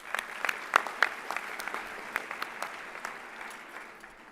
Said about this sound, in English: How about a big round of applause for our principal?